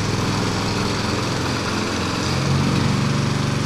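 A farm tractor engine runs steadily at close range, a constant droning rumble with a slight lift in pitch near the end, no voices.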